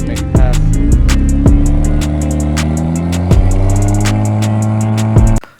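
A turbocharged BMW 335i drag car on a quarter-mile pass: a loud, close engine wails up through the revs, drops sharply at each gearshift, then climbs again in a rising, stepped scream before cutting off abruptly.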